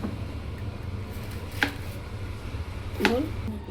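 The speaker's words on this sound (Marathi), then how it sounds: "तर शिमला मिरची अशा प्रकारे साईडने चौकोनी कापून घ्यायची." A knife cutting capsicum into square pieces on a board, two distinct crisp chops about a second and a half apart over a low background hum.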